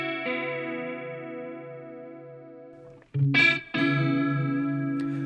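Electric guitar run through a WA-C1 chorus pedal in chorus mode, a long sustained chord with a gently pulsing shimmer, then a quick strum and another ringing chord, close and fairly loud.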